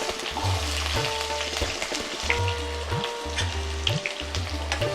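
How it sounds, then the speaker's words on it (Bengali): Shrimp with green chili, garlic and onion fry in hot oil with a loud, dense sizzle and crackle. Rhythmic scraping strokes of a spatula recur about once a second. "এগুলো একটু কিছুক্ষণ ভেজে নিব, এই জন্য যে চিংড়ি মাছ বেশি সময় ভাজলে শক্ত হয়ে যায়"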